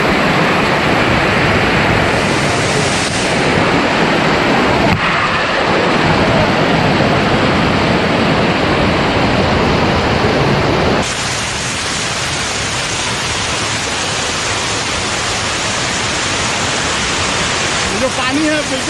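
Manjhar Kund waterfall near Sasaram in Bihar roars with a loud, steady, broadband rush of falling water that fills the whole stretch, easing slightly partway through.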